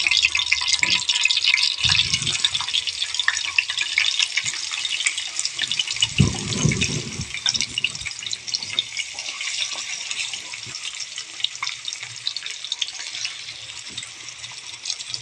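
Small ayirai fish sizzle in hot oil in a dosa pan, a steady bright crackling hiss with occasional low bubbling pops throughout.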